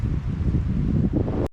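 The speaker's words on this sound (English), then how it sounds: "Oh, that wind is cold." Cold wind blowing through woods at about 48 degrees, a steady low rumbling gust buffeting the microphone for the whole stretch, with a brief dropout near the end.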